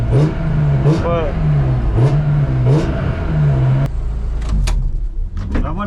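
A car at a track day in Bresse revs its engine in repeated rising and falling bursts inside the cabin, with people talking over it, and the engine noise drops off near the end.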